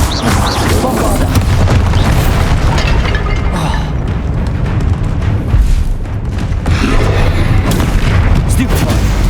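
Bombarda spell explosions in the Hogwarts Legacy video game: loud, dense booming blasts and rumbling bursts one after another, close and heavy, with a voice shouting spell names over the chaos.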